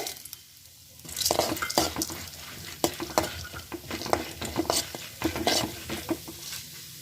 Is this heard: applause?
no